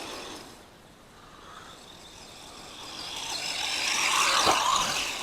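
A Feiyue FY03 Desert Eagle 3, a 1:12-scale RC off-road car, drives across grass with a faint high electric whine that builds louder as it approaches, brief bumps near the end.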